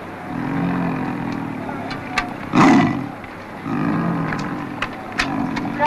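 A lion caught by one toe in a trap gives a single loud, furious roar that swells and fades in the middle of a low, rumbling background, with softer sounds before and after.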